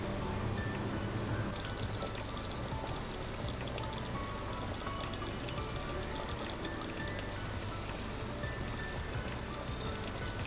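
Ghee poured into a pot of dum-style chicken curry gives a steady, soft pouring trickle that runs unbroken and fairly quiet throughout, with no voices.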